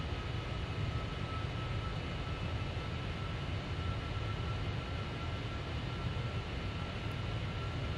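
Boeing 747-400 jet engines in Flight Simulator X roar as a steady, loud broadband drone that holds unchanged throughout, with no talk over it.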